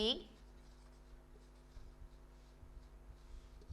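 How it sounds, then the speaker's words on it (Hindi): Pen writing a line on paper during a class 10 maths lesson on real numbers, soft intermittent scratchy strokes close by, following a brief louder sound at the start. "यहाँ पे पहले लाइन लिखेंगे हम"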